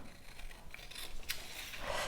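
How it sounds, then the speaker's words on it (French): Stationery scissors snip through a paper sewing pattern for a women's boxer brief, giving a soft, close rasping cut with light scraping, quiet and continuous, no voices. "Donc on coupe toujours le papier avec un ciseau de papeterie"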